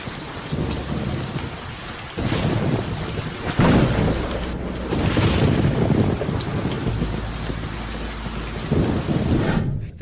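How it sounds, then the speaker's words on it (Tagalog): A loud thunderstorm with steady heavy rain pattering on surfaces and several deep rolling thunder crashes building and fading across the scene, no voices. "Fernando Vergara, natatakot ako sa kulog"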